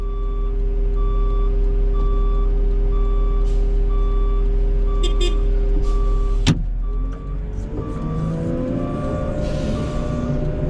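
A truck reversing at a snow removal site gives a steady run of evenly spaced, regular back-up beeps over a low idling engine, with a sharp clunk midway followed by rising mechanical whine.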